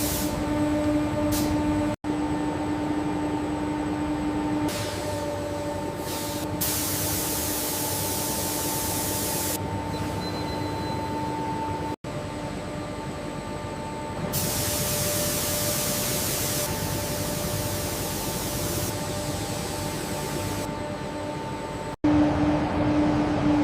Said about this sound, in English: Applying the primer.